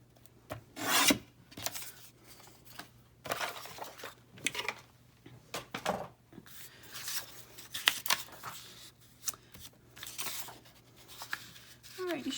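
Scissors snip through paper pages being trimmed to fit a small space in a handmade journal, giving a run of close, crisp cutting and rasping strokes in irregular bursts.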